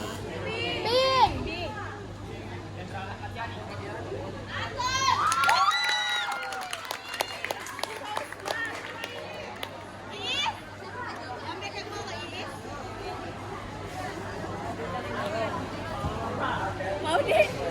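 A school audience of children at a quiz on Indonesian national history, held for Independence Day, shouts out answers together, a loud crowd babble with cheering bursts and overlapping young voices.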